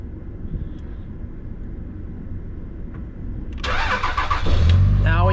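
A car engine cranks and catches after a quiet idle-like hum, rising suddenly into a loud, close running roar; the car has a check engine light and a throttle position sensor fault from low voltage.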